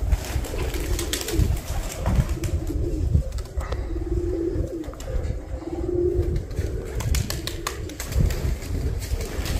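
Domestic pigeons coo repeatedly in a low, throaty rhythm close by, with several birds overlapping amid faint rustling and a busy background murmur.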